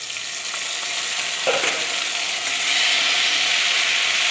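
Ginger is dropped into a hot pan while cooking Bengali cauliflower roast (fulkopi roast). There is a close, continuous hissing sizzle, with a sharp burst as it hits the oil and a louder sizzle toward the end. No one speaks.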